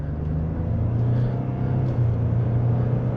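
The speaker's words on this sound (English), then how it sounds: "let's go ahead and give it a little bit of punch" A 2024 Ford F-150 XLT 4x4 with a 3.5L V6 hybrid accelerates from inside the cab, a steady low engine drone and rumble rising gently in pitch, smooth and continuous with no voices.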